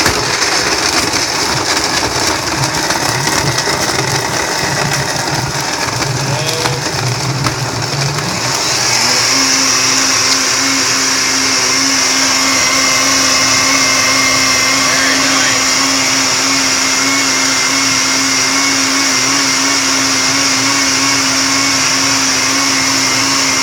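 A countertop blender whirs steadily while blending an orange, mango and pineapple smoothie with water. It starts up partway through, then holds a loud, even motor drone near the mic to the end.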